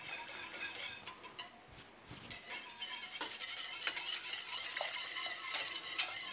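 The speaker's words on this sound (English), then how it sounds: "Give it a stir through." A spoon stirring pink food colouring through custard, giving soft, continuous wet swishing and light scraping against a bowl, close and fairly quiet, with no talking.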